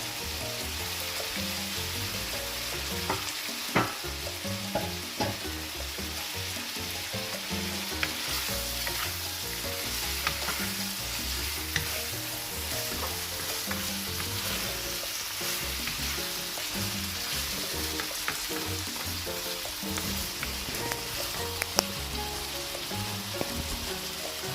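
Lemongrass frying in a hot pan for chicken tinola, a steady loud sizzle with scraping stirs running throughout, no voices.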